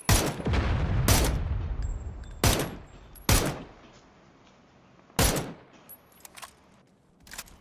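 Gunfire in a battle royale video game: several loud, sharp shot bursts spaced a second or two apart, some in quick clusters, with quieter game noise between them.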